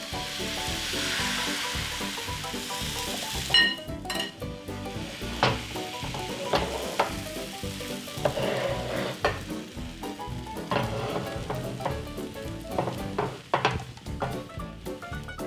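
Butter and crepe batter sizzling in a hot pan, a steady close hiss with frequent light ticks and scrapes from a utensil, alone and fairly soft throughout.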